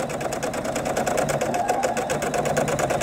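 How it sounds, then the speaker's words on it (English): A sewing machine with a quarter-inch foot stitches a border onto a crib-size quilt, a steady rapid mechanical whir with even rhythmic clatter running continuously, close and moderately loud. "here we are back at the sewing machine, and we're gonna go ahead and just put this against our 1/4-inch foot and sew"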